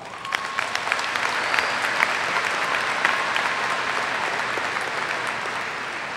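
Sustained round of applause from a large graduation audience at a high school commencement ceremony, steady dense clapping filling the hall for several seconds, loud and even throughout with a few sharper claps standing out.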